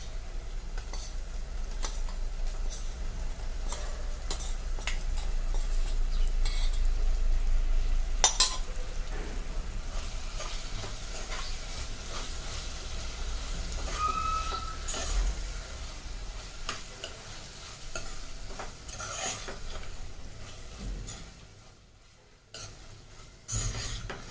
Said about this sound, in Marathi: आता आपण यात मॅरिनेट केलेले सोयाबीन ॲड करूया